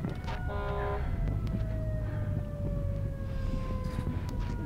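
An ambulance siren wails steadily over heavy traffic rumble, its pitch sliding gradually downward as it winds off.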